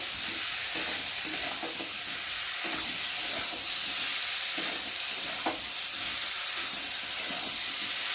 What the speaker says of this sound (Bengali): মশলার সাথে পটলটাকে ভালো করে একটু কষিয়ে নেব।